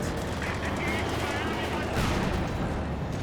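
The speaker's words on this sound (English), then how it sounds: "Mattress artillery on the way." Dense, rumbling barrages of Soviet mattress rocket artillery in the Company of Heroes 2 strategy game, a continuous wash of explosions and gunfire at steady loudness, with a louder burst midway under a commentator's voice.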